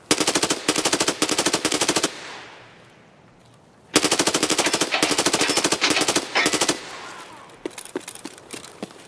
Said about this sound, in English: I just shot at him a couple times